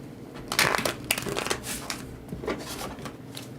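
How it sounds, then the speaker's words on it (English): Tarot cards are shuffled by hand in several quick riffling bursts, crisp papery rustles close up, with no speech. "Let's do one more shuffle here."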